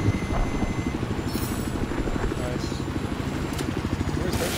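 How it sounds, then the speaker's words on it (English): A helicopter flies overhead in the video game Battlefield 4 on the Golmud Railway map, its steady, loud rotor chop throbbing continuously under game noise and voices. "Chopper's over Bravo."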